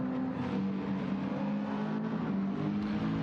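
Genesis race car in Gran Turismo 7 running steadily around a track, a continuous droning engine note with a firm low hum and broadband rush, loud and close throughout with no talk.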